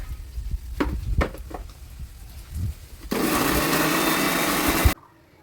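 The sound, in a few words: mixer grinder grinding fried ginger, onion, cumin and coriander into paste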